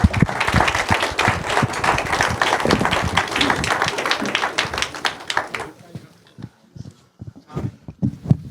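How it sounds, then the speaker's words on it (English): A panel at a veteran mental health forum draws a burst of dense audience applause that carries for several seconds, then thins to scattered claps and taps as it winds down. "Let's get a round of applause for this panel really quickly."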